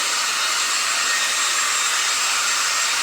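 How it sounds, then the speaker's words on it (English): A hair dryer blows steadily over wet paint on an abstract flower painting, a constant loud hiss of rushing air with no pauses and no voices. "Get rid of the dryer."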